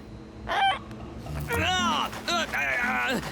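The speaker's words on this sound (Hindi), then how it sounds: "सिर पर बैठा हुआ सीगल।" A cartoon seagull perched on a character's head gives several squawking, honking calls in bursts, close and loud over a busy background of music and effects.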